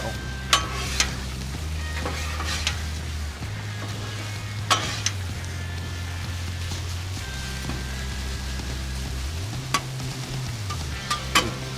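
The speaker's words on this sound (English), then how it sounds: "Onions and peppers starting to cook down now." Onions and peppers sizzling on a Blackstone griddle alongside potatoes for corned beef hash, a steady soft hiss under a low motor hum, with occasional sharp scrapes and taps, no talk.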